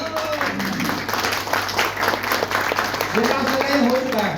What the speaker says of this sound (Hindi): खड़े हो गए, खड़े हो गए, जोरदार ताली।